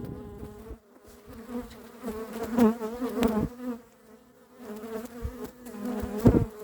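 A swarm of honey bees being gathered after swarming in Igny hums close to the mic, with a droning, wavering buzz that swells and fades as bees crawl over a phone.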